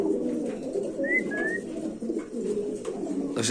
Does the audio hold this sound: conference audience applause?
no